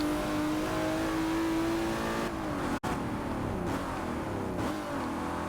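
A 1950s Aston Martin DBR1 race car in Forza holds a steady, droning engine note, then a sharp cut of a gear shift, and climbs again under heavy revving as it pulls away.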